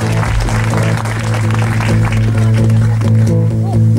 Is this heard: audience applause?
yes